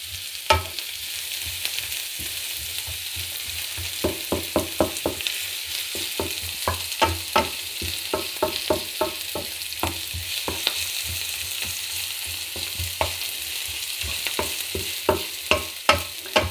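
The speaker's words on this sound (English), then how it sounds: "I'm going to let the onion become a little bit soft together with the garlic." Onion and garlic softening together in a hot pan for stir-fried vegetables: a steady close sizzle runs throughout, punctuated by frequent sharp clicks and scrapes of a utensil stirring, with no voices.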